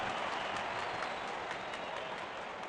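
A large cricket crowd at an IPL final between RCB and GT applauds a boundary four, a dense, steady wash of clapping and cheering that fills the stadium without letup.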